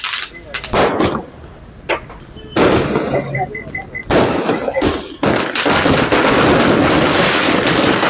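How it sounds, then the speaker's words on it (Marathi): Sharp, loud firecracker bursts crackle and pop in irregular clusters at a welcome for a prize buffalo, some sustained in rapid chains, with voices faintly underneath. "फटाके वाजून या ठिकाणी स्वागत करण्यात आलेलं आहे"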